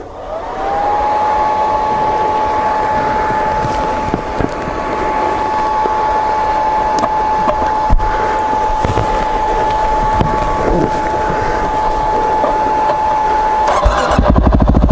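A Yamaha WR250R dirt bike engine running off road after restarting, holding a steady, high-pitched whine at constant revs for most of the clip, close and loud, with a rougher burst near the end.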